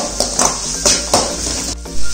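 Onions sautéing in hot oil, an even hiss broken by a few stirring scrapes and metallic clinks of a spoon against the pan, loud and close.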